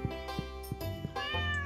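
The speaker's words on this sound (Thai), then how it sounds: "แมว" A cat in Stardew Valley meows several times in quick succession, short bright calls with a longer drawn-out meow at the end, close and clear over a quiet background.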